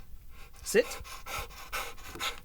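A dog pants in quick, breathy bursts close by, with a person speaking intermittently around it.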